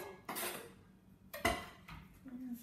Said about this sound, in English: We'll put the second package of our bean sprouts in a bowl.